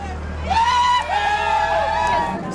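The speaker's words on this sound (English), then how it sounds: "Several trolleys rolled in, packed with soldiers waving at the cheering crowd" A crowd cheers and whoops for trolleys packed with returning soldiers of the 395th Ordnance Company at a homecoming, with raised voices and bright calls swelling over steady background noise.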